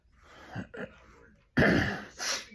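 A person clears their throat several times up close, two short rasping hacks followed by a longer, harsher throat clear and a final grunt.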